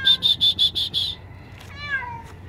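Six quick, evenly spaced high chirps ring out first, then a cat trapped in an emptied pool lets out one falling meow at moderate volume.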